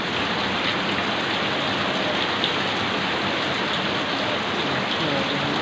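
Heavy rain falls on a village road, a loud, unbroken hiss of dense downpour that holds at the same level throughout, with no voices over it.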